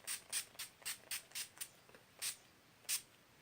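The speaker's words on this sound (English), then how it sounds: "I'm just going to go and spray my face with it, kind of avoiding my mouth area." A setting spray misted onto a face in a makeup routine, a string of about nine short hissing pumps in a quick irregular rhythm, close and fairly soft with no talk.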